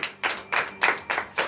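A congregation claps together during a morning prayer gathering in Comè, Benin, with four bursts of hand claps in a quick rhythm, close and fairly loud.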